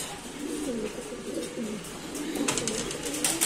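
Racing pigeons coo in low, rolling phrases against a steady background hum. The cooing repeats throughout, with a few brief brighter sounds near the end and no talk.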